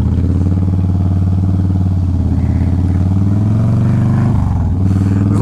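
A Honda CBR 600RR sport motorcycle rides over a rough dirt road, its engine droning loud and close with steady low harmonics, a brief dip and recovery in revs near the end.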